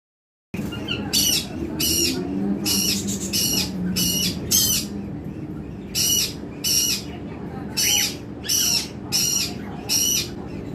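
Cockatiels call in a run of shrill, repeated squawks in short bursts with brief pauses between them, loud and close, over a low background hum.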